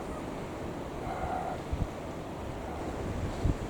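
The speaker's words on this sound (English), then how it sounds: "it is windy sitting here" Wind blows outdoors, rumbling steadily against the microphone as broad, continuous roaring noise with a few low buffeting thumps.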